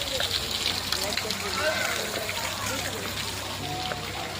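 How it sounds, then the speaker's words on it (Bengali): Water splashing down from a fountain at a quiet local shrine at night, a steady hiss and patter with a person talking over it. "ফটোয়াতে জল পড়ে, দেখো জল পড়ছে"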